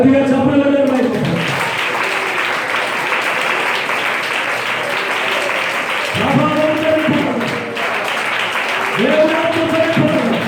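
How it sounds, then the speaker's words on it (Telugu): A church congregation claps loudly together during worship, a dense continuous applause lasting the whole stretch, with a voice calling out over it at the start and again near the end. "గట్టిగా చప్పట్లు కొట్టండి."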